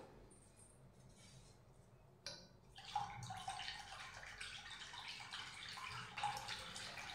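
Chilled water from a clay pot is poured into yogurt for Maharashtrian mattha buttermilk. After a quiet start, a soft, close pouring trickle begins and runs steadily. The sound stays faint, with no talk.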